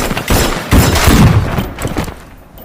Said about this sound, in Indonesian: Bates yang panik langsung melepaskan tembakan